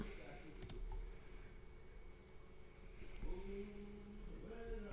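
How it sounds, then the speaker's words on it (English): Rapid clicking of computer keyboard keys, the spacebar hammered repeatedly while testing disabled player controls in a Roblox game, soft and steady under a low background hum. "I'm spamming the spacebar right now, clicking on the keys"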